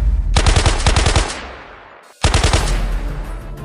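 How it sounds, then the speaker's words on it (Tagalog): Loud bursts of rapid automatic gunfire ring out as a sound effect in a Filipino audio drama, one volley of about a dozen sharp shots with echoing tail, then a second burst after a brief pause. "pinahabulan si Mang Bandong ng putok ng baril."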